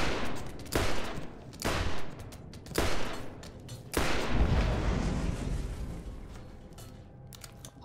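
Turret gunfire from the Borderlands video game, several loud broadband bursts of shots at regular intervals followed by a longer sustained volley that slowly fades, with no talking.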